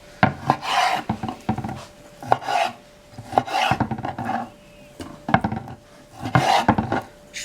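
A knife slices beef on a wooden chopping board, producing repeated rasping strokes with sharp knocks against the wood, coming in rhythmic bursts about a second apart, close and fairly loud, with no talk.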